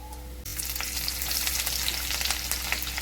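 Crushed coriander and cumin hit hot ghee for dhaba-style chole bhature, bursting into a sudden loud, crackling sizzle that stays steady and close until the end, with no talk.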